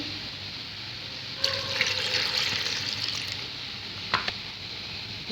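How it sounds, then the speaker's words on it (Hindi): A little water poured from a jug into green chilli paste in a home kitchen: a soft, steady trickle and splash lasting a few seconds, close and quiet, with a brief clink near the end and no talk. "अब मैं इसमें डालूँगी थोड़ा सा पानी।"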